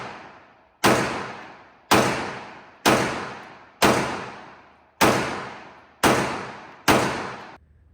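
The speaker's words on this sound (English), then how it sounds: "So I'll put some shots down range and see how I do." Staccato XL 2011 pistol fired downrange at an outdoor range, seven sharp loud shots at a steady pace of about one per second, each followed by a decaying echo.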